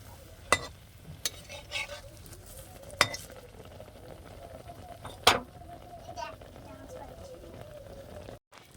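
Soft palm-fruit pitha batter made with egg fries in oil over low heat, with a gentle, fairly quiet sizzle. A few sharp utensil clinks stand out, and a person talks over the frying.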